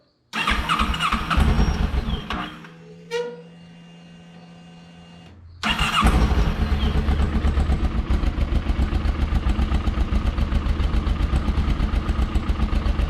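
A 2007 Kawasaki Ninja 650R motorcycle, unused for a week, starts and idles close by, loud and rhythmic. It drops out briefly mid-way, then settles into an even, pulsing idle while warming up.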